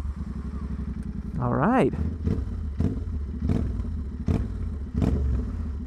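A straight-piped Royal Enfield motorcycle cranks and fires up nearby, its loud open exhaust settling into a steady thumping idle punctuated by sharp revs, with a brief spoken comment near the start.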